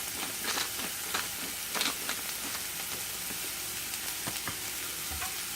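A Greek omelet seasoned with salt and pepper sizzles steadily as it cooks in a pan, with a soft continuous crackle and a few louder pops, close and moderately quiet, with no talking.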